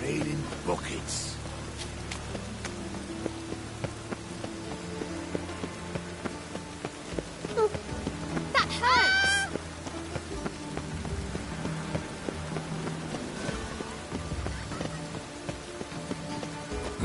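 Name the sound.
heavy rain falling in a video game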